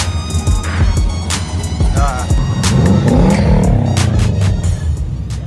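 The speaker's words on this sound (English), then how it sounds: "See some cars roll through." Race cars pass close by one after another through a small town, engines rumbling and revving as they roll through, loud and continuous.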